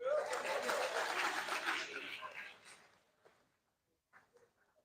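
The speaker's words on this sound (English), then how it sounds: "clap for yourself" A crowd at a Niger Delta rally in Uyo claps in a dense, fairly loud burst for about two seconds, then the applause thins out and fades, leaving a few faint scattered sounds and distant voices.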